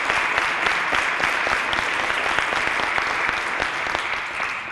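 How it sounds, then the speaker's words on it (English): A crowd at a press conference applauds steadily, dense clapping at a loud, even level throughout, with no voices over it. "giving a round of applause to our parents and grandparents"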